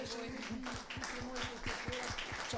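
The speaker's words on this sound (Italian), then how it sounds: "Complimenti a tutti, faccio l'applauso qui" Steady, rhythmic clapping with dense crowd noise on a live Italian TV broadcast, close and continuous, with a voice speaking over it.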